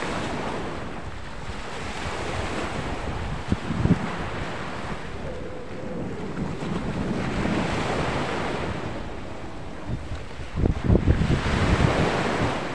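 Ocean waves surge and wash steadily off Sitio Recudo, San Andres, Quezon, while wind buffets the microphone, with heavier gusts and crashing swells rising in places.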